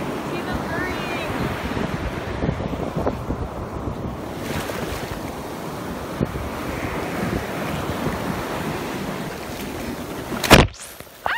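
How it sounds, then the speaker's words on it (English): Ocean waves wash onto a stretch of tropical hotel beach in a continuous roar, heavily buffeted by wind hitting the microphone, with a sharp bump near the end. "this stretch of beach is all that matters right now"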